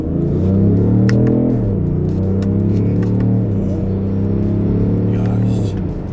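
A BMW X5 M50d engine drones close and loud as the accelerator is pressed and released, with the pitch rising and dipping under continuous talk inside the cabin.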